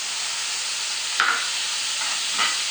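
Tomato hitting a hot pan of beef and green bean stir fry, giving a steady loud sizzling hiss with a couple of brief brighter crackles and no talking.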